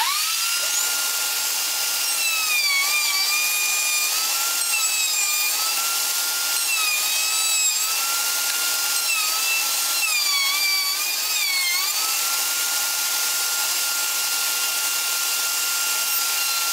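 A power saw cuts a three-inch-wide, 3/8-inch-deep channel into wood for a beehive screened cover, a steady, loud whining buzz with shifting pitch that runs continuously and close up for the whole stretch, with no talking.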